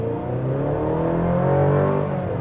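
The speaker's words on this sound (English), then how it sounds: "You can try one out off the line, no brake torque, just on the gas, boost." A 2026 Chevy Colorado ZR2 pickup launches hard from a standstill, its boosted engine droning loud and steady with rising harmonic tones as it pulls through the gears, no voices over it.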